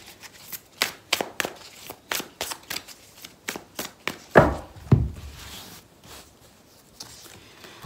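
Tarot cards being shuffled for a reading, a quick run of crisp riffling flicks in an uneven rhythm, with a louder burst of card slapping midway before the sound settles into quiet handling, close and without talk.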